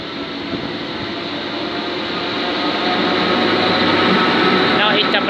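Train at Stowmarket station, a steady mechanical rumble and hum that swells gradually louder as it goes on, with a brief squeal near the end.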